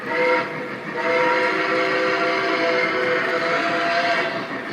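A model train whistle on a Lionel/MTH layout, one long, loud, steady multi-tone blast that holds for several seconds after a brief initial toot, with no talking over it.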